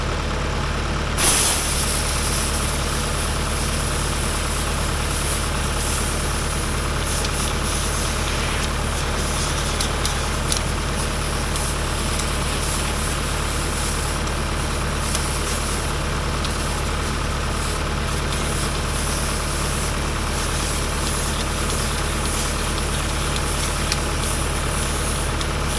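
A truck engine idles steadily nearby for a long stretch, a constant low droning hum with faint mechanical rattles and no talking.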